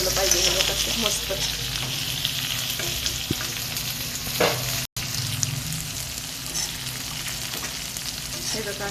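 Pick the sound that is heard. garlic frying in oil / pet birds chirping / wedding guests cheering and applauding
garlic frying in oil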